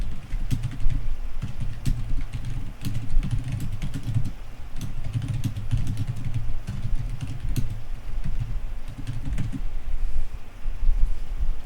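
Computer keyboard typing code comments, a steady run of quick, irregular clicks over a constant low hum, fairly close and with no talking.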